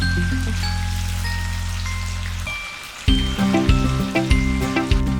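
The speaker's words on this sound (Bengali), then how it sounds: "প্রথমে 3টে করে আমরা ভেজে নিচ্ছি সুন্দর করে।" Vetki fish pieces fry in hot oil, a dense crackling sizzle that rises in rapid spattering bursts near the end, heard over a low steady hum at first, with no talk.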